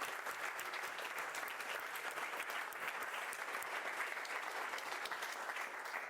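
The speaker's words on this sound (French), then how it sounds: "On applaudit bien fort nos 5 intervenants." Continuous audience applause at an annual conference honoring five speakers, a dense, even wash of clapping throughout, fairly distant and without talk over it.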